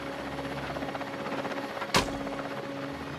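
Helicopter hovering close over snowy forest terrain with a steady, droning rotor and engine, then a single sharp crack of a tranquilizer dart fired at a snow tiger, with the rotor drone continuing after it.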